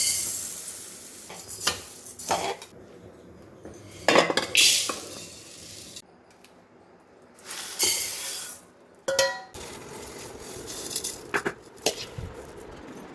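Green gram being dry roasted in a pan, one batch at a time: intermittent scraping and rattling bursts of grains stirred against the metal, with a light sizzle between strokes and no talking.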